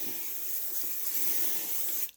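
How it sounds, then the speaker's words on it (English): Aussie Mega flexible-hold hairspray sprayed onto dry hair: one steady, close aerosol hiss lasting about two seconds before it cuts off. "right now my hair is in a dry state, I'll spray a little bit"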